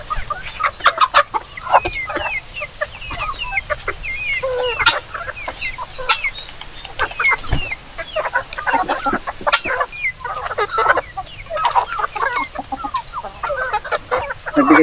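Hens cluck and chatter steadily throughout, a busy flock close by with overlapping calls and no talking.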